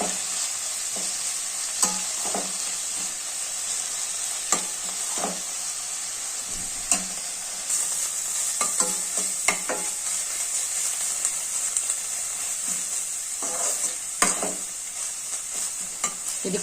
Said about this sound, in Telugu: బాగా ఎర్రగా వేయించుకోవాలండి, ఒట్టిగా అయ్యేంత వరకు వేయించుకోవాలి